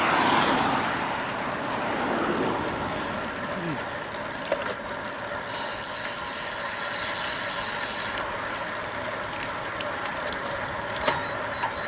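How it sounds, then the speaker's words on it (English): An airplane passing overhead during a group road bike ride, a broad engine roar mixed with wind noise, with riders talking and shouting over it. "There's a plane coming, hurry up, get out of his way."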